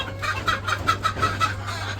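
Farm chickens cluck in a quick run of short, evenly spaced notes, close and fairly clear over a low steady hum, at a village poultry farm where eggs are being collected.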